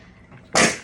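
A single sharp sneeze bursts out close by after a moment of quiet room noise.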